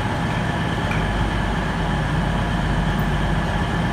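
A CrossCountry passenger train arrives at Southampton Central station, a steady low rumble of rolling wheels and engine close by, continuous and unchanging throughout.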